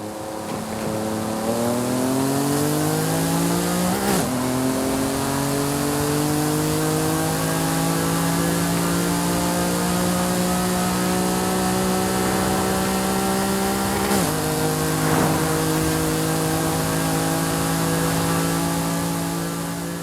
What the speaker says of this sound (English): For a 1988 supercar, I'm pretty impressed with its exhaust sound.